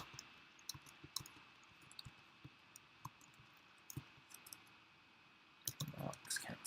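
Sparse, quiet clicks of a computer keyboard as a school name is typed, irregular single taps spaced apart with a quicker cluster near the end, faint and close in an otherwise silent room.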